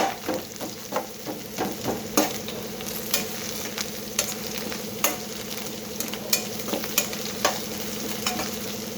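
Onions frying in oil in a pan for brinjal masala, a continuous close sizzle with frequent clicking stirs of a spoon scraping the pan at an irregular, fairly quick pace, no talk.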